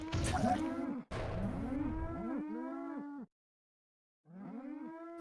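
Cows moo in a South Park video game, several overlapping calls loud and close, then a pause of silence before another moo rises at the end.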